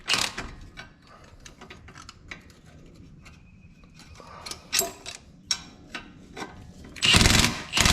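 Ratchet snugging strut assembly bolts on a 2002 Toyota Camry during a strut replacement, a series of close, sharp clicking bursts with pauses between, ending in a louder rapid run of ratcheting.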